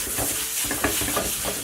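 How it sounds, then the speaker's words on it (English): An oiled, scrunched-up paper towel rubbed across a frying pan, giving a steady close brushing, scraping texture with a few small bumps and no talking. "get your vegetable oil, place a little bit on the towel, and then coat your pan"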